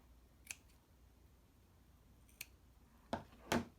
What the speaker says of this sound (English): let me just cut it down a little bit more too